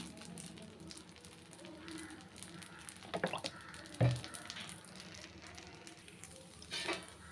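Dosa batter made with cucumber sizzles steadily in oil on a hot pan, a soft continuous frying hiss with a few louder crackling bursts and brief stirring or scraping noises, nearby and fairly quiet, with no talking.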